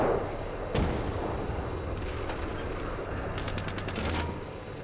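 Battlefield gunfire and artillery in a mechanized infantry combat game, with a sharp nearby blast, scattered distant shots and a burst of rapid automatic fire against a constant low rumble.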